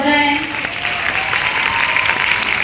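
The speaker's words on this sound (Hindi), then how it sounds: "हमारे बच्चे बहुत जोरदार तालियां एक बार बजाएं" Loud applause from a crowd of children at a school welcome ceremony in Mahoba, dense steady clapping running throughout with a brief tonal sound at the start.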